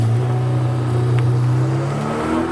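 A Ferrari 488 Pista accelerates away with a loud, rising engine note that climbs steadily in pitch through the gears, close and unbroken.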